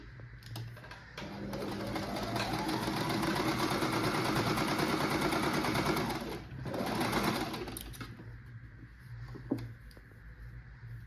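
A Singer 1304 electric sewing machine runs steadily for about six seconds, pauses briefly, then stitches in a shorter burst before stopping, close and fairly loud with a whirring, rapid needle rhythm.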